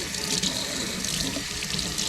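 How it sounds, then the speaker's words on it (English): A water tap runs steadily, rinsing sand and salt off an XP Deus 2 metal detector coil, a close, continuous splashing gush with no talking. "first I'm going to rinse it off"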